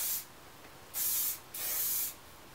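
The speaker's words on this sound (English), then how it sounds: "I'm just going to give it one last spray on top here" Hairspray is sprayed onto the top of a head of flat-iron curls in two close, loud hissing bursts, a short one and then a longer one, with a brief quiet gap between them and no talking.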